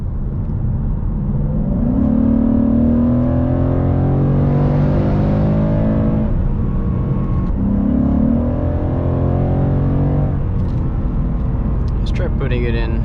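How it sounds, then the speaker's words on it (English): A 2020 Mustang GT engine rumbles at idle with the exhaust in quiet mode and swells into a few revs, with someone talking over the steady low drone. "So all that sound you're hearing is from under the hood."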